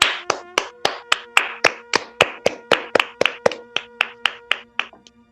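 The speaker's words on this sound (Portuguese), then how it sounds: "Uma salva de palmas aí pra essa galera aí." Steady, rhythmic hand claps close to the microphone on a Brazilian podcast, about three per second, crisp and even, over a faint sustained hum, slowing and stopping after about five seconds.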